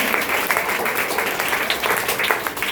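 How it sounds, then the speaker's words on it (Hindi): A group of school students clapping for a classmate, a dense, steady round of applause that continues throughout at close range. "प्रिया भारती के लिए जोरदार ताली"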